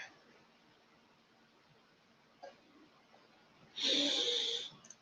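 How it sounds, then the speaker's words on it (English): Quiet room tone, then one forceful, hissing sniff lasting under a second, close to the microphone, with faint breathy sounds before it. "Clear out"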